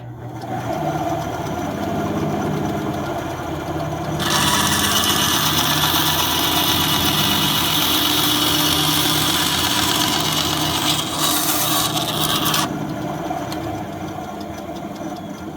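A power saw cuts through wood to shape D4 dice, a steady mechanical whine that rises into a harsher, louder cutting rasp for several seconds before easing back to the motor hum.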